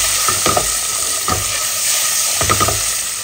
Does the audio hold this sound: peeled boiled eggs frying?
yes